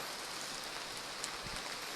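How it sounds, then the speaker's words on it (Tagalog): Rain falls in a forest, a steady dense hiss of drops at low level, unbroken and with no voices. "So, medyo malakas ng ulan tol."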